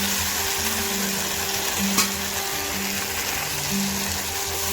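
Fried pointed gourd and potato pieces with spices are stirred in a pan over a steady oil sizzle, with scraping strokes throughout and one sharp utensil clink partway through.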